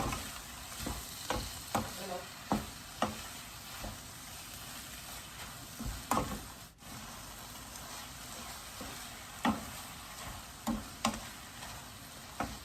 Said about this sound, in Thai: จากนั้นก็คนไปเรื่อยๆเลยค่ะ ผัดเข้าไปเรื่อยๆ เลยนะคะ